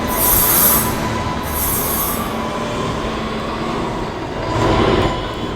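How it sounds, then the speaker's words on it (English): In a video game, a Halston Turbo train rolls along the rails with a steady rumble, high metallic wheel squeals rising over it at the start and again near the end. "See, that train is from Halston Turbo."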